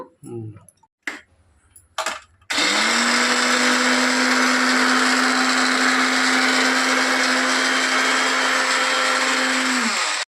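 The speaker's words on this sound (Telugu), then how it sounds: "ఇది కూడా మిక్సీ మెత్తగా పట్టేస్తాను." A kitchen mixer grinder whirs loudly and steadily for several seconds while grinding a ginger-garlic spice paste, starting abruptly after a few brief knocks and handling sounds.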